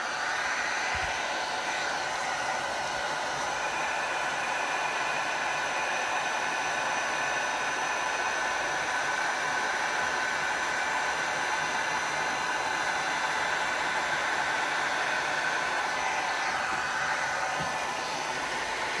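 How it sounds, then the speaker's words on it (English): A heat gun blows over an epoxy resin tray, producing a continuous, close, even roar of air that holds steady for the whole stretch without a break. "So I'm going to hit this with heat just one more time to break up some of that black now."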